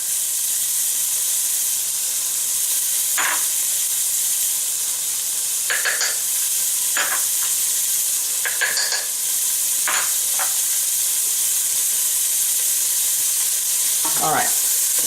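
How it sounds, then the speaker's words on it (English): Onions, garlic and spices sizzle in a pot with a loud, steady hiss, broken by scattered stirring scrapes and clinks up close. "we want to cook these until the onions are nice and translucent"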